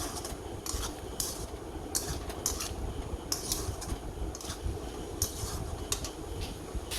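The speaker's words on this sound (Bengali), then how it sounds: "তারপর নাড়াচাড়া করে দিচ্ছি ভেজে রাখা কলাগুলোকে মশলার সাথে।" A utensil stirs fried banana pieces with spices in a metal pan, scraping and clinking in irregular strokes over a low steady cooking rumble, fairly faint with no talking.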